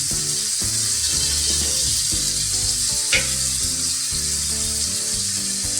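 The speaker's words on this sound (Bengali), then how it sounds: "চিংড়ি মাছটা আমি এর মধ্যে দিয়ে দেব, দিয়ে পেঁয়াজের সাথে একটু ভালোভাবে ভেজে নেব।" Shrimp fry with onions in a pan, giving a loud, continuous, close-up sizzle over steady tonal music-like sound, with one brief sharper crackle near the middle.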